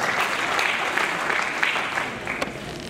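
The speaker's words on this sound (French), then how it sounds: "Tous vos applaudissements, mesdames et messieurs" A debate audience gives a slam poet full applause on entrance, loud and dense continuous clapping sustained from start to finish, with a few sharper claps standing out near the end.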